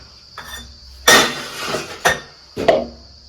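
Dishes, pots and pans being scrubbed and washed by hand, with three sharp clattering bursts of metal and crockery over a low background, no talk.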